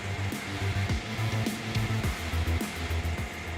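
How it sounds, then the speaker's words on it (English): A Tigercat LX870D wheel loader fitted with a tree cutting system works in a Washington forest, giving a steady mechanical drone with rhythmic pulsing tones and repeated clanks, heard close and continuous. "the Tigercat LX870D wheel loader is equipped with a tree cutting system."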